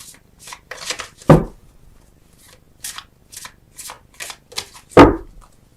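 Tarot cards shuffled by hand in a series of quick riffling bursts, with two louder slaps of the deck, close and alone with no voice.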